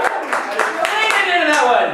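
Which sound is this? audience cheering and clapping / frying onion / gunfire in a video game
audience cheering and clapping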